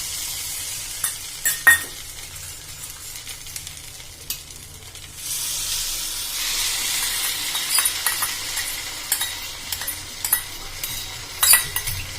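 A soybean chilli mixture is tipped into a hot pan and sizzles steadily, the hiss swelling partway through, broken by scattered clinks of a utensil stirring against the pan, close and without talk.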